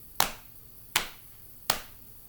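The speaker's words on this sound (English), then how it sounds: "keep slapping or clapping with me. Ready? Here's our beat." Three sharp, evenly spaced hand claps or slaps ring out alone at a steady beat, each with a short decay, in a quiet room.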